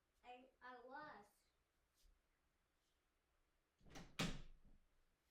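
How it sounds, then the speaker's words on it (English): A door swings shut with a sharp, close thud near the end, after a voice speaks briefly and a few faint shuffles. "Close my door."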